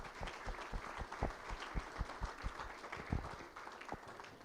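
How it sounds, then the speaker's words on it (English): Audience at a county government State of the County address breaking into applause, a fairly quiet, scattered round of clapping with individual claps heard clearly, fading toward the end. "So a big round of applause for her for what she's"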